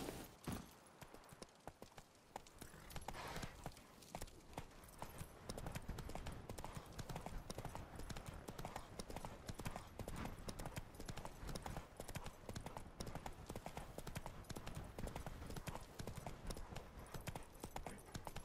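Horse hooves galloping in a video game, a racing-saddled mount producing rapid, continuous clip-clop beats throughout, fairly quiet and steady with faint background game sounds.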